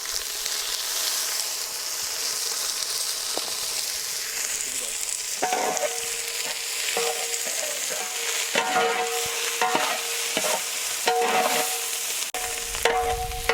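Chopped onions and curry leaves frying in a pan for Indian bagara chicken curry, a continuous hissing sizzle with intermittent scraping and clinks of a spoon stirring the mix.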